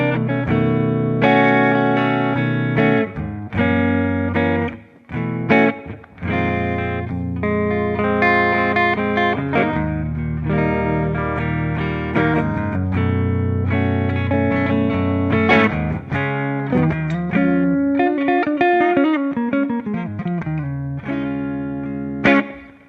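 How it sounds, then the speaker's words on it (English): A Les Paul electric guitar on the neck pickup, played through Amplitube 5 set to a glassy Fender-style clean amp, rings out in sustained chords and single notes for over twenty seconds, with no talking. "This is like just a normal glassy Fender clean sort of thing."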